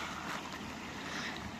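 Steady wind blowing by the sea during a beach barbecue, a loud broadband rush and buffeting across the whole stretch, with faint surf underneath.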